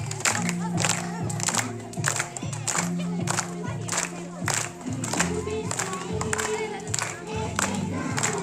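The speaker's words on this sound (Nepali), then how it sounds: "सबैजनाले जोरदार ताली बजाएर साथ दिनु होला" Audience at a school Guru Purnima teachers' performance clapping in a steady rhythmic beat, loud and close, with music and children's voices mixed in throughout.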